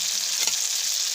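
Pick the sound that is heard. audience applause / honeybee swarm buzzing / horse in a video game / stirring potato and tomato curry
stirring potato and tomato curry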